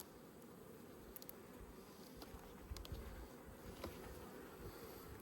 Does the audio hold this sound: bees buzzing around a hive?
yes